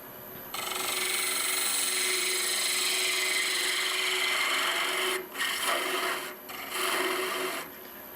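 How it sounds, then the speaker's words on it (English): A spindle gouge cuts end-grain wood on a lathe while turning a natural-edge vase: a continuous loud, rasping shear over the spinning piece, easing off briefly twice near the end as the tool lifts. "Let's move to the spindle gouge."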